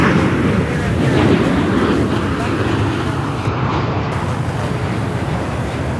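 An arriving airliner at Charlotte Douglas airport lands on runway 18 right, heard as a broad, loud rumbling roar of engines and wind that holds steady for several seconds with slight swells.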